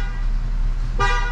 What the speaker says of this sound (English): Honks for safety.